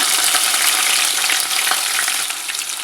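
Onion frying in hot oil and ghee with cumin and mustard seeds, a steady loud broadband sizzle with crackling pops, close and continuous with no talk, for a sago khichdi.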